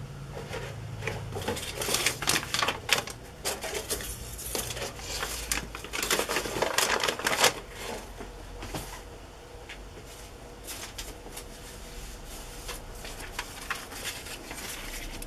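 Paper scraps being torn by hand for gluing into travel notebook journals, with irregular ripping and crinkling bursts for the first several seconds that fade to quieter, sparser rustling.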